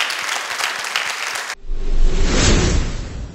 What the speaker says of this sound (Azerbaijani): Tamaşaçılar Şamo İsayevi ayaq üstə alqışladılar